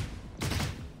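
A Phantom rifle shot fires in Valorant, a single loud, close, sharp blast that cuts in abruptly and rings briefly with no voices over it.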